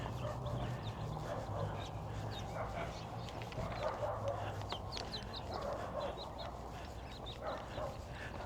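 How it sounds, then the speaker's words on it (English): Several dogs bark and yip at a distance among old buildings in Arizona, a busy scattered chorus over steady outdoor background noise, with faint voices mixed in. "where the dogs are barking and carrying on"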